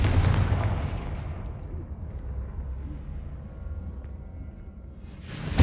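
Confringo fire spell exploding in Hogwarts Legacy, a heavy booming blast at the start that rumbles and decays slowly, followed by a second sharp burst at the very end.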